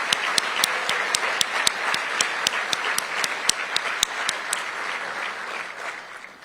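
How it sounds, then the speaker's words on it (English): An audience at a State of the City event in Spokane applauds in a sustained, fairly loud round of clapping, with sharp claps standing out over the dense crowd sound before it begins to taper off. "please stand up one more time so we can give you a big round of applause"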